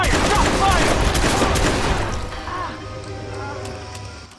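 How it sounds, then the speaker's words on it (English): Gunfire in the Watch Dogs video game, a loud burst of rapid shots packed into the first two seconds, then a quieter lingering tail with voices talking over the action. "Shots fired! Shots fired!"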